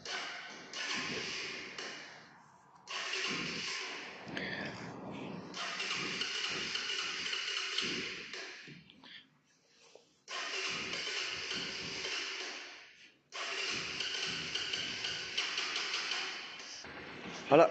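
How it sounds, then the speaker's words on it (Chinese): A motorcycle engine cranks over several times in separate bursts separated by short pauses, each attempt roaring loud and rough nearby before cutting out, ending with a sharp revving blip. "一打就着了，加一下大油门"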